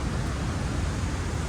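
Steady rain falls through a mossy forest in Martvili Canyon, Georgia, a dense, even hiss with a rumbling low end that holds constant and close from start to finish, with no pauses or distinct drops standing out.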